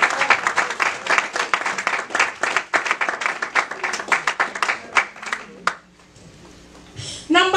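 A church congregation claps along at a worship service, with sharp, fairly regular hand claps over voices and singing, then fading into a short lull before a louder burst returns at the end.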